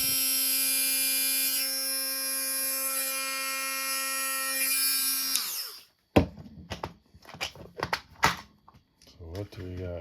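A Warrior rotary tool from an 80-piece kit runs on test for about six seconds as a steady, loud, high-pitched whine, then cuts out and gives way to clattering and handling noises.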